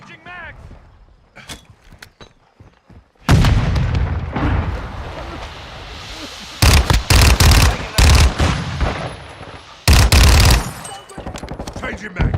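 Gunfire in the shooter Modern Warfare II: after a quiet stretch, loud bursts and volleys erupt, several sharp clusters of rapid shots separated by brief pauses. Voices call out between the bursts.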